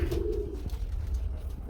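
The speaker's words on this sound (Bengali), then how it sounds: "তারপরে একাধিক পেয়ার একাধিক সিঙ্গেল কবুতর আছে।" Pigeons at a pigeon farm, a soft low cooing call near the start over a quiet, muffled background, fairly faint and brief.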